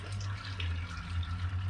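Water pours steadily into a bucket of hulled black walnuts, a continuous low rushing fill heard up close with no voices.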